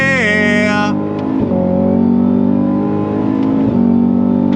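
Loud, close V8 of a 2024 Cadillac CT5-V Blackwing, a sharp rev blip on a downshift followed by sustained pulling acceleration through further gear changes.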